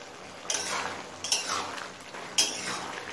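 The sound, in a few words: stirring water lily stems (shapla) in a pan on high flame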